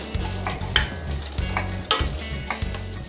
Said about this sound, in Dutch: We laten hier de ajuin, die paprika, de laurier goed laten soederen.